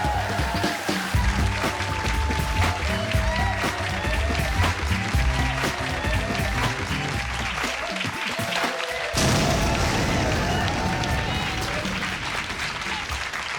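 A live comedy audience at a stand-up show in Glasgow claps and cheers loudly for a comedian, a dense sustained roar of applause that carries on without pause.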